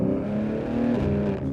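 BMW M3 G80 with an OPF-delete exhaust system holding a deep, steady rumbling rev, close and loud, a continuous low engine drone with no talk.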